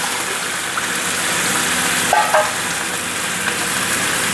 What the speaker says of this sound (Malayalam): ഒരു കപ്പ് വെള്ളം ഒഴിച്ചു ഒരു കപ്പും കൂടി ഒഴിക്കാം